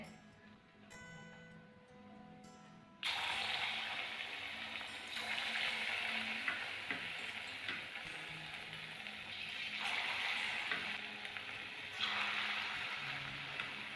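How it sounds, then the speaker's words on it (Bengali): Hot oil in a wok on a gas stove, heated for frying banana and coconut fritters, gives a steady moderate sizzle and hiss after a few seconds of faint ticking, swelling slightly at times. "তেলের বড়ার জন্য আমি কড়াইয়ে তেল দিয়ে দিলাম। তেলটা গরম হয়ে গেছে।"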